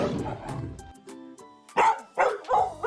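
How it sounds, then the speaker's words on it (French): A cartoon puppy barks playfully in a run of short, bright yips, several close, loud barks after a quieter opening, with a musical backing underneath. "Regardez ce petit chien espiègle, il aboie joyeusement."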